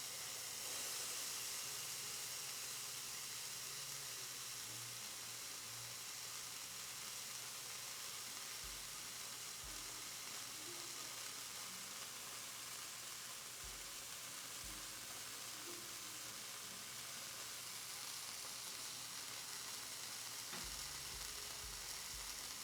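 Pork chorizo and eggs fry on a VEVOR griddle with olive oil, a soft, continuous hissing sizzle that holds steady throughout, with a few faint low knocks and no clear talk.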